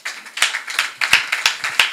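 Audience clapping after a panel talk on becoming a surgeon sounds as a short run of distinct, close hand claps in an uneven rhythm, sparse rather than a full crowd.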